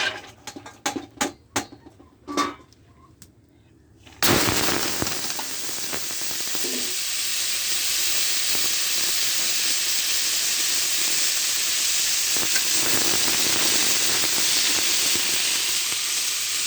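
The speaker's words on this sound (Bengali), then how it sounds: "কড়াইতে তেল দিয়েছি আর এই যে চাল কুমড়া দেবো" Chopped ash gourd with onion and garlic drops into hot oil in a wok, bursting into a loud, steady sizzle and hiss that holds on unbroken after a few clattering knocks at the start.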